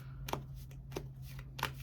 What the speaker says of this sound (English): As you can see, I'm shuffling on camera